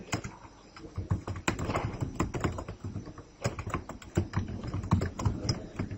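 Someone types on a computer keyboard while entering data into an SQL table. The keystrokes come as quick, uneven bursts of close, crisp clicks with short pauses between them, and no voice is heard.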